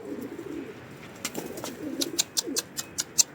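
Pigeons coo softly in low murmurs, joined by a rapid series of light flapping or fluttering pulses, close by.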